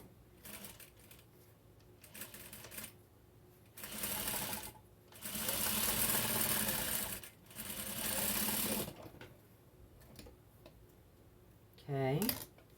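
Sewing machine stitching and back stitching rag quilt squares, several short bursts of rapid needle clatter separated by pauses, close and fairly quiet, with a faint voice at the end.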